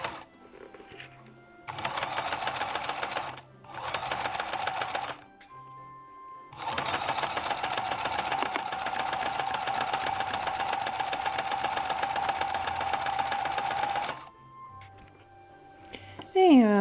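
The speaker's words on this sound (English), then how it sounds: "I have now reinforced that with zigzag stitching" A sewing machine zigzag-stitches in loud close bursts, two short runs and then a long continuous rattle of rapid stitching, separated by brief pauses.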